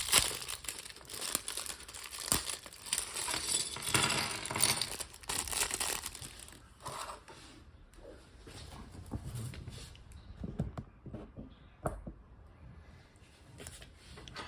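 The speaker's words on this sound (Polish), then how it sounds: "A ja jednak zostawię to tym, którzy lubią słuchać klikania klocków." Plastic Lego pieces from the 1996 set 1752, a weapons-armed boat, clicking and rustling as they are handled and assembled, a busy run of close crinkles and snaps that thins out into scattered clicks.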